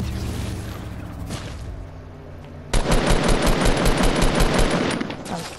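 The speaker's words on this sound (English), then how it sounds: "That was terrible shooting." Rapid automatic gunfire in Fortnite Battle Royale: loud, dense bursts of shots rattling continuously through the second half, after a quieter stretch of game ambience.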